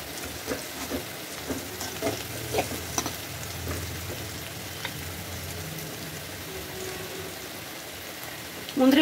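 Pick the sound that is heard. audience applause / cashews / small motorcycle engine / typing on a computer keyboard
cashews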